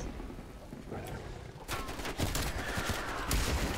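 Ray gun firing in Call of Duty: Cold War Zombies, a rapid barrage of loud sharp energy blasts with bursts and booms, and a voice talking over the shots.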